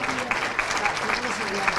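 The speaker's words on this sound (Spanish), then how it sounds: "Un aplauso, por supuesto." Audience at an awards lunch claps briefly in a steady patter while a voice speaks over the applause.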